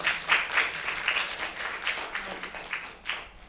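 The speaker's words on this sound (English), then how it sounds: "give yourself a round of applause" An audience at an MFA fine arts thesis panel gives a round of applause, a dense, fairly close patter of many hands that swells briefly and then thins out, with no speech over it.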